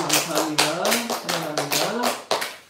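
Church congregation at a Korean Sunday worship service clapping in a fast, even rhythm, with a voice singing or speaking over the claps throughout.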